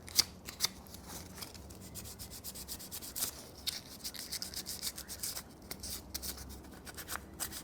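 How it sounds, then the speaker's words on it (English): Wet and dry sandpaper rubs over Moto Guzzi 750 Breva battery connections to clean off dirt and corrosion, a quick, irregular scratchy scrubbing close by, fairly quiet and steady throughout. "I'm just going to clean up the electrical connections with a bit of wet and dry"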